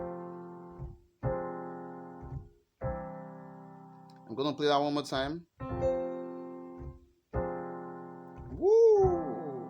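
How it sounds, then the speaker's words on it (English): A piano chord progression that ends on a minor 6 chord instead of a plain minor chord: several sustained chords ring one after another, with someone talking briefly between them near the end. "you can end it using a minor 6 chord instead of a minor chord, and if you do that, it's going to sound something like this"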